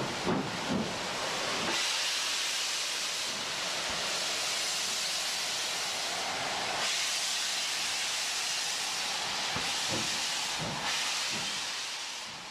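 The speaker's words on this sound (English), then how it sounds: "young Jim might eventually get his hands on one of the new Stanier mixed traffic engines that were eventually to form the biggest single class of British steam locomotives, the legendary Black 5." Steady hiss of escaping steam from a British steam locomotive, a Stanier Black 5 mixed traffic engine, loud and continuous for the whole stretch with a few brief lulls and no talk.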